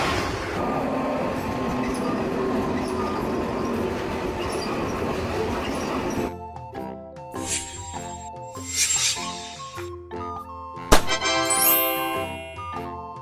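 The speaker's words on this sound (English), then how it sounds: "This is South Korea's high-speed train system, offering rapid travel across the country." South Korean high-speed train running, a steady broadband rumble of rolling noise for the first half, then quieter with tonal whines, clicks and a sharp bang near the end, with no talk.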